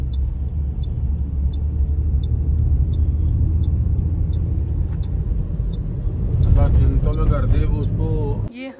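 A car on a road trip between Lahore and Murree rumbles steadily with low road and engine noise, faint repeated ticks over it, and voices talking inside toward the end.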